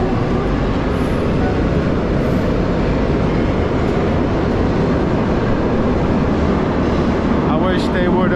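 A Lisbon metro subway train at Oriente station roars loudly and steadily, a dense continuous rumble of wheels and motors on rails, with a brief higher whine near the end.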